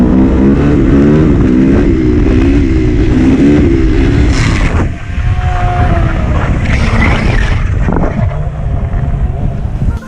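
Motorcycle engine roaring loud and steady through a wheelie, then abruptly cutting out and sputtering with wind buffeting the microphone, ending in a broken engine.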